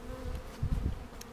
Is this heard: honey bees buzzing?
yes